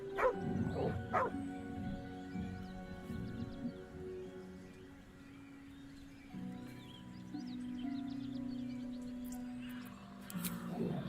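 Dog in the video game Baldur's Gate 3 giving a few sharp barks and yips, then whimpering in drawn-out whines, close and clear with no talking.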